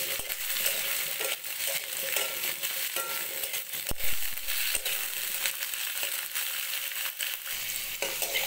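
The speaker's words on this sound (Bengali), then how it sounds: "সবজিগুলো 2-3 মিনিটের মতো ভেজে নিলাম" Potatoes and winter vegetables fry in a pan with cumin and crushed garlic, a steady close hissing sizzle broken by the scrape and clatter of stirring, with no talking.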